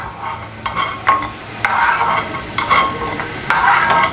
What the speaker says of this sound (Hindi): ऑयल गर्म हो चुका है, पहले मैं बादाम फ्राई करूँगी।